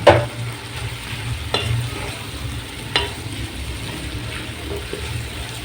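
Fried okra tossed into ghee sizzles under stirring, a close crackling fry broken by a few sharp scrapes and knocks of the spoon against the pan.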